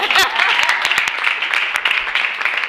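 Audience applause at a school event with pupils, steady dense clapping throughout, fairly loud and close, with no talk over it.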